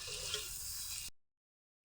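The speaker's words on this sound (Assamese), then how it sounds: "এতিয়া মই মাংসখিনি অলপ দেৰি ভাজি লম" Broiler chicken meat frying in oil with browned onions, a steady close sizzle under brief stirring that cuts off abruptly into silence after about a second.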